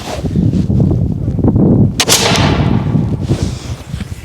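A black powder muzzleloader rifle, fired in windy weather without patches, lets off a single loud, sharp boom that rolls into a long, fading rumble against blustery wind noise.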